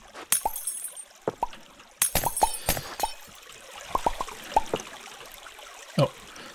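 Water pouring in the block-building game Minetest, a trickling, splashing stream broken by several sharp clicks and block-placing taps, fairly quiet with no talk.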